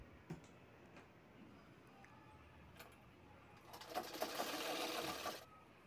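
Sewing machine stitching the shoulder seam of a lehenga, a short, steady whirring run of stitches after quiet handling sounds, fairly close but modest in level.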